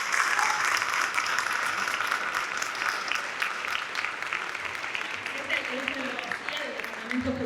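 A strong round of audience applause at a closing panel marking ten years since a civil and commercial code reform, steady dense clapping throughout with a faint voice emerging near the end.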